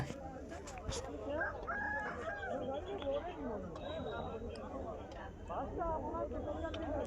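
A rooster crows amid a cockfight at a busy village market, heard faint and a little distant beneath continuous crowd chatter and voices.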